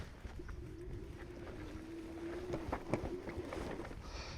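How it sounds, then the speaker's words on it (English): A Jansno X70 e-bike motor running in walk assist mode on a heavy bike gives a faint, steady low whine that holds for several seconds over outdoor background noise, with a few soft clicks near the end. "Just wondering if you can hear that motor."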